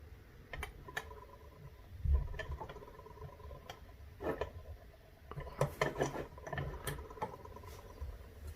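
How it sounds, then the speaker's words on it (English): An Ingersoll 10 lever lock is picked with two tension wrenches. Close, faint metallic ticks, scrapes and rubbing come in irregular bursts, with small clicks as the tools work the levers. "you just try to pick off the binders until you get a little bit of give"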